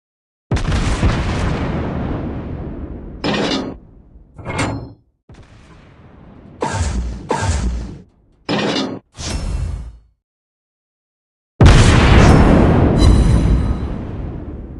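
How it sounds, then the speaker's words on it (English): Enemy ship destroyed in a video game, heard as loud, booming explosion blasts in several separate bursts that start and stop abruptly, ending with a long, heavy blast. "We hit the enemy! Enemy ship destroyed!"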